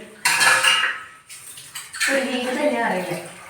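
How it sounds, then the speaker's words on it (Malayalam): Two metal pots clatter and clank as they are set down on a kitchen counter in close, sharp bursts, with a brief pause between them. "നമുക്ക് ഇങ്ങനെ രണ്ട് പാത്രങ്ങൾ എനിക്ക് വയ്ക്കാം"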